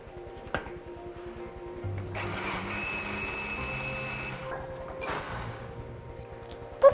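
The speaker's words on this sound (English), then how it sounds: "just to put everything in the blender, mix it, and it's gonna be your sauce" An electric blender whirs for about two seconds while mixing Thai chicken rice sauce (khao man gai sauce), then gives a shorter second pulse; fairly close and moderately loud, with kitchen clatter around it and no talking.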